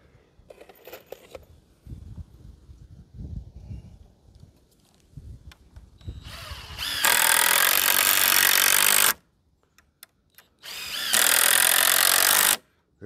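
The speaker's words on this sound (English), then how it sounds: "Pre-drill, and this even leaves a little countersink, which is pretty cool." Power drill pre-drilling and then driving screws into wood, quiet handling knocks and taps followed by two loud sustained whirring bursts with a brief pause between.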